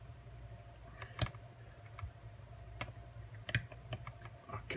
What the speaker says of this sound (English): That's me twisting the lock.